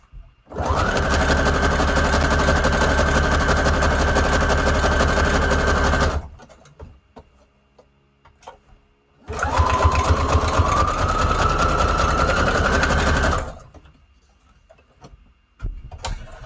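A sewing machine stitching paper junk journal tags runs in two long, loud, steady bursts of roughly six seconds each, separated by a quiet pause, close up and without talk.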